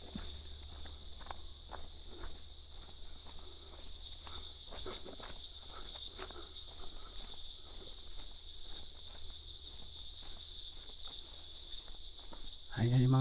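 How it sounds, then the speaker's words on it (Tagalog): Steady high-pitched cricket chirping fills the background, with faint footsteps on a muddy path and rustling beneath it and a louder bump at the end, at a rural farm campsite in Calauan, Laguna, Philippines. "Puro mga kuliglig lang yung naririnig natin."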